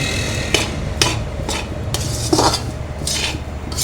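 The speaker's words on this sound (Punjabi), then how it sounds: "ਨਾਲ ਨਾਲ ਇਹਨੂੰ ਹਿਲਾਉਂਦੇ ਰਹੋ ਤਾਂ ਕਿ ਥੱਲੇ ਨਾ ਲੱਗੇ ਮੱਚੇ ਨਾ" Besan panjiri being stirred in a pan as the gram flour roasts: a spoon scrapes steadily with sharp clinks against the metal about every half second, over a low sizzle and no talking.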